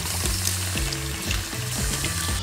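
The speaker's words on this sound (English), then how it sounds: "fill that with hot water" Hot water gushes from a kitchen tap into a container, a loud, close, continuous splashing rush with a low gurgle that shifts in pitch as the vessel fills.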